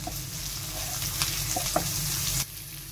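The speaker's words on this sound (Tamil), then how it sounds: "வந்து சோம்பு பொரியுது" Fennel seeds frying in hot oil in a home kitchen pan while cooking prawn tokku, a steady close sizzle with a few brief stirring clicks, cutting down sharply near the end.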